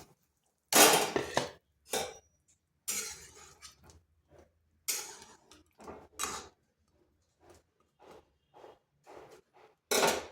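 Kalojam sweets made from semolina go into hot sugar syrup in a pan off the heat, giving a series of separate clattering knocks and metallic clinks against the pan with quiet gaps between them.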